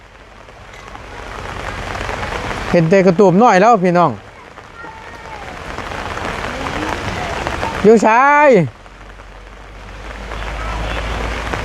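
Heavy rain pours steadily during a storm, a dense unbroken hiss that carries on under two short bursts of a person talking.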